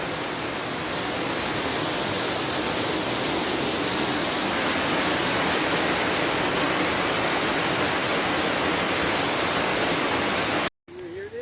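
A waterfall at the Cascadas del Obraje near Ocuilan de Arteaga rushes in a steady, loud, broadband roar that fills the whole stretch, cutting out briefly near the end.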